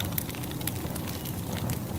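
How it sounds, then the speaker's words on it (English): A fireplace fire crackles steadily in the background, a soft continuous hiss with faint scattered pops, fairly quiet and alone. "So you can hear the fireplace in the background."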